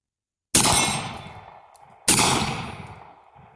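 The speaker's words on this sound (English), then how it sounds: "let's shoot just a little bit more." Two loud, sharp gunshots from a Smith & Wesson Governor revolver fired outdoors, about one and a half seconds apart, each a sudden blast that rings and decays over the following second.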